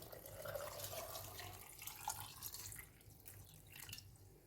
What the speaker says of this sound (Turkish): Üzerlerine su döküyor.